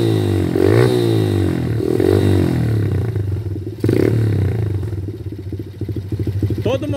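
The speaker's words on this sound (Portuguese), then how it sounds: "Tá, pessoal, aí está a marcha lenta dele, né? E olha o ronquinho como é que ficou" A quad bike fitted with a sport exhaust pipe idles with a loud, lumpy, rhythmic rumble close by, a few light throttle blips swelling the burble, while someone talks over it.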